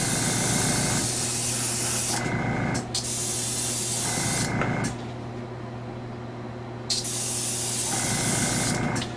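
Airbrush spraying a paint coat onto a 1/1400 scale Kestra model: steady close hissing bursts, with three spraying passes separated by brief pauses and a quieter stretch in the middle.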